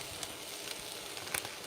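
Frozen mushrooms frying in a pan give a steady, quiet hiss and sizzle with faint crackles and pops throughout, no talking.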